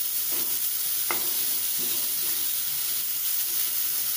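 Vegetables for beetroot cutlets sauté in a pan, producing an even, close hiss of sizzling oil throughout with a few faint stirring knocks and no voices.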